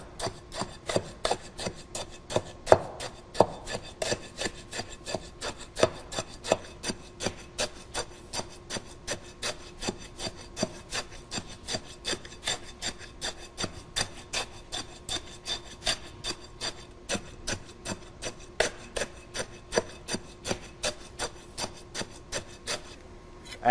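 Steel rod repeatedly rodding fresh concrete in a test beam mold, a steady series of rhythmic scraping, rasping strokes about twice per second, close and fairly quiet, with no talk.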